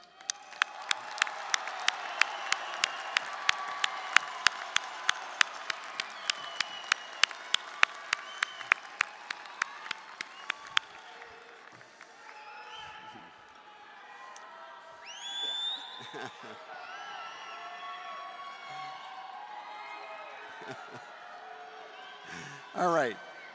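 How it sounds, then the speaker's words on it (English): At a University of Washington spring undergraduate commencement, graduates clap for their loved ones: sharp rhythmic clapping builds into broad applause with cheers and whoops, then fades into crowd murmur and voices before a final burst. "join me in giving them a round of applause"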